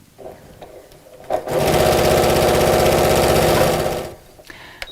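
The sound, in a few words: sewing machine stitching along elastic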